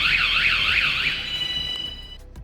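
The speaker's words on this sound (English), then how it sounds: "A powerful alarm eliminating the time that a thief has got undetected in an attempt to try and remove that bike and asset off the rear." A Van Guardian anti-theft alarm fitted to a motorhome sounds a loud, close, warbling electronic siren that sweeps up and down on its own, then cuts off abruptly near the end.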